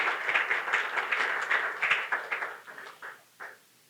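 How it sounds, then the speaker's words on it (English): Audience at a business presentation applauding, a burst of dense clapping that thins into a few scattered claps before stopping. "All right, let's give them an applause"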